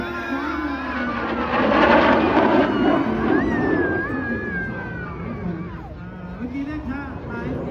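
An F-16 fighter jet flying over a Thai air force wing's Children's Day air show, a loud sustained engine roar that swells then eases, heard under continuous excited talking and crowd voices.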